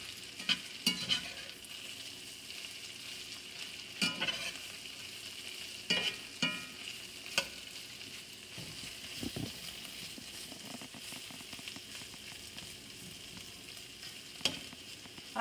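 Seasoned wishi mushrooms fry uncovered in a pan, giving a soft continuous sizzle broken by scattered sharp pops and utensil clicks, fairly quiet and close.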